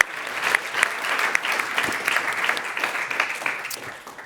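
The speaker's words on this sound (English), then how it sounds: "Let's give them a round of applause for making today happen" Sustained audience applause for organizers at a live panel event on the future of food, a full crowd clapping steadily with scattered sharper claps, heard alone and tapering slightly toward the end.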